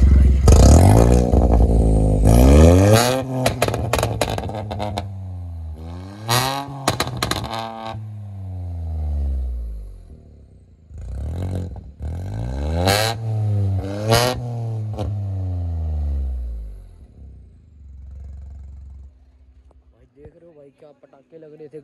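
A stage 2 tuned Maruti Swift's engine revs hard in repeated loud bursts, climbing and falling in pitch with pauses between, close by, ending in a lower idle.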